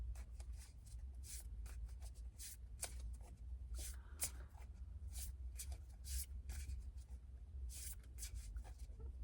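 Tarot cards shuffled by hand during a card reading, a steady soft riffling and rubbing texture, quiet and close, running continuously with no talking.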